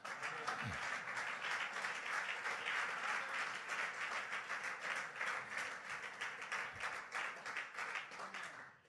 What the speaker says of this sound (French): Est-ce que quelqu'un peut d'abord acclamer le roi des rois?